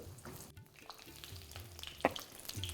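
Pointed gourd (potol), about 500 grams, frying in hot mustard oil, with a low steady sizzle and occasional stirring clinks, fairly quiet throughout.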